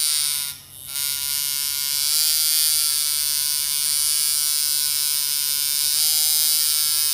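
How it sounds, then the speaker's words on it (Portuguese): A tattoo machine set for lining runs with a loud, steady, high-pitched buzz that stays nearly constant apart from a brief dip near the start. "Deixa eu ligar a máquina aqui."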